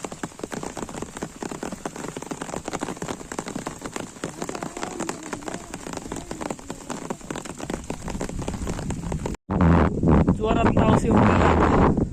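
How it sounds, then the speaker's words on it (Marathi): Heavy rain falls on flooded paddy fields, a constant close hiss of drops on water that cuts out briefly near the end before resuming with rougher, wind-buffeted drumming and faint voices. "पावसाची मजा"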